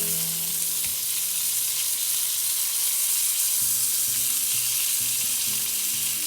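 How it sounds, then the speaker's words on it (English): Butter garlic prawns pan-fry in burnt butter, giving a steady, close sizzle with faint stirring and bubbling sounds beneath the constant hiss. "So that's a very simple recipe for burnt butter garlic prawns"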